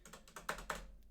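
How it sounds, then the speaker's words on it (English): Quick light keystrokes on a computer keyboard, a short soft burst of several taps in uneven rhythm, close and quiet with no talking. "we need to type in ID product"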